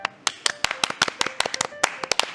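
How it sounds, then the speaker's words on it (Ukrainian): Scattered, uneven handclaps from a small audience welcoming a guitarist, with sharp individual claps landing about every fifth of a second, fairly close and moderately loud. "Аплодуй Костю."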